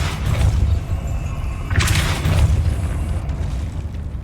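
A Depulso spell is cast in the Hogwarts Legacy video game, giving a broad whooshing burst near the midpoint over a steady rumbling game backdrop.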